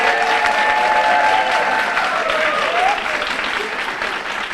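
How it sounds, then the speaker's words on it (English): Sustained applause from a crowd at an awards ceremony, steady and full for several seconds, tapering slightly toward the end, with a faint tone drifting underneath. "let's celebrate both of these awardees by applauding them on the Larry Parker"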